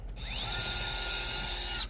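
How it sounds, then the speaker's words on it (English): Handheld power drill boring into a metal piece, spinning up quickly to a steady high whine that holds for under two seconds before cutting off, close and alone. "and then you're drilling it by hand"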